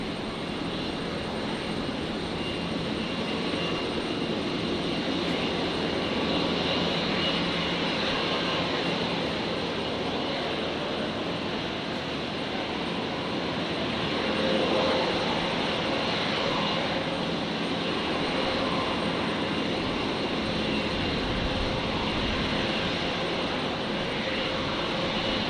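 An aircraft at Brisbane International Airport near runway 01 left roars with a sustained jet engine rumble and hiss, loud and steady for the whole span with a slight swell midway, with no talk.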